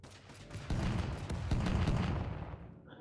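Rapid, sustained automatic gunfire from MP4 rifles in Totally Accurate Battle Simulator, dense overlapping bursts rolling on for about three seconds before cutting off abruptly near the end.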